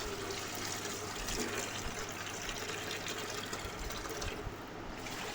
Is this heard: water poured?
yes